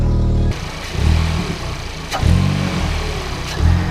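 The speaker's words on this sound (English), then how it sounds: "Car is running good." A Volkswagen Golf R MK7 engine running on E85 idles nearby with a rough low rumble, rising in a few brief revs before settling back, with no one speaking.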